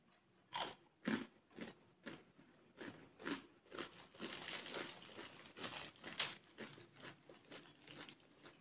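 Crunchy rengginang rice crackers with a sugar topping are bitten and chewed up close, giving a run of sharp, evenly spaced crunches that blend into steady crackly chewing, quiet and with no talk.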